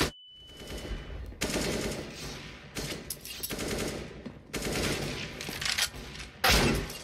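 Video game gunfire in rapid, dense bursts of automatic shots, loud and close, with short pauses between volleys and a heavy final burst near the end.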